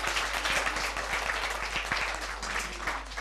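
Young members of an Italian sports club give their parents a round of applause, a loud, continuous wash of many hands clapping at close range, with steady low rumble beneath.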